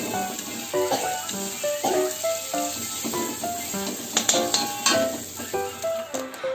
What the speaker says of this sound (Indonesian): Tumis bumbu sampai langu atau sampai matang ya, sampai berwarna kecoklatan seperti ini.